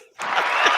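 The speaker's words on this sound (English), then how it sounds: "Hit that applause." A short burst of clapping applause starts abruptly and holds steady, a dense wash of many hands at moderate loudness, brief and without voices over it.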